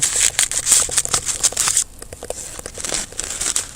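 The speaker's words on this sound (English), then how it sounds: "we're going to open this nest very gently to expose the layers of paper" Papery layers of a baldfaced hornet nest torn and pulled apart up close, a busy run of crisp crinkling, crackling rips that ease briefly partway through before carrying on.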